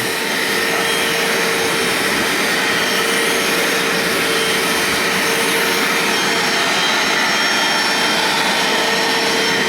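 A Bissell Little Green ProHeat portable carpet cleaner runs on a cushion with a loud, constant motor roar and steady whine, close by and unbroken throughout, with no talking.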